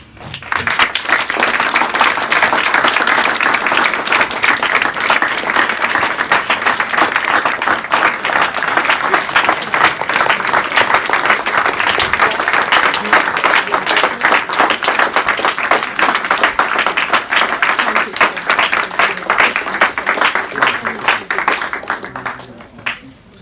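Sustained audience applause fills a hotel banquet room at a networking keynote, steady dense clapping from a large crowd that carries on loud for over twenty seconds before cutting off.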